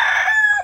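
A village rooster gives one short, loud, close crow, clear and alone.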